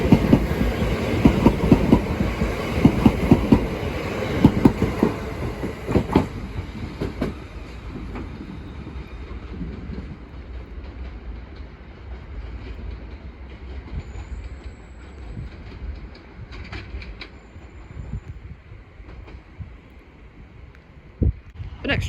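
British Rail Class 379 electric trains passing Bethnal Green on the London main line, a loud rumbling roar with rhythmic wheel clatter that gradually recedes into a quieter, steady rolling hum, with no talk heard.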